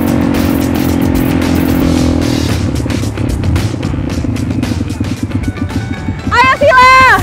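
ATV engines rev and race along a beach, a loud buzzing drone that fades into rougher throttle bursts, with people talking and shouting over the motors near the end.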